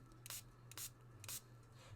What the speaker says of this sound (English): when we flip it over, we're going to spray this side as well